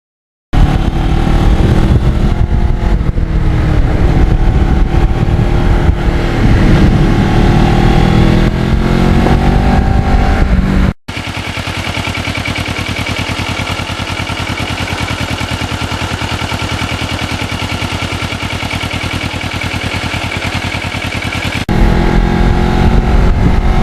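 A Kawasaki Ninja motorcycle ridden on wet back roads, a loud close engine drone rising and falling with throttle, interrupted midway by a steadier rushing segment of wind and road noise before the engine returns.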